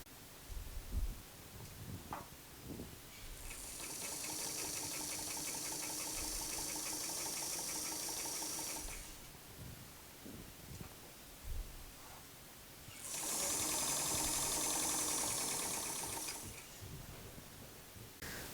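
A sewing machine stitches vintage 1960s bathing suit bottoms, running in two steady whirring bursts of several seconds each, separated by quieter handling and rustling of fabric.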